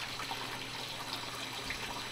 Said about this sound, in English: So that's the bowl filter running.